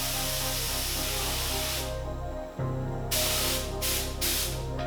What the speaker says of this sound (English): I ran out of paint in the middle of spraying this part